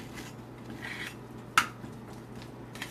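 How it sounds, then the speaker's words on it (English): Shrimp being stirred in a pan as they begin to stick, heard as soft scraping with one sharp metallic clink midway and a lighter tap near the end, over a low steady hum. "They look like they're sticking, so we're going to stir them"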